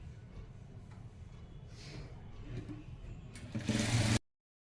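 A sewing machine stitches a sleeve, its steady motor whir and needle chatter running throughout over a low hum, rising into a louder, faster burst near the end before stopping abruptly.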